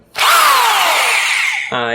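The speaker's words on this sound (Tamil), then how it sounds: "நான் வாங்கினது தான் இந்த பாஷ் ஹேமர் ட்ரில்" A Bosch hammer drill spins up sharply and runs loud and steady at close range, its whining pitch sagging slightly under load before shifting near the end.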